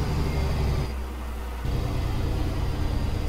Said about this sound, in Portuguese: Vamos ver o freio motor?